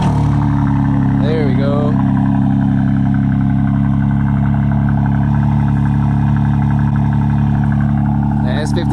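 BMW G80 M3 with its S58 engine starting for the first time and settling into a loud, steady, deep idle grumble close by, with people talking over it.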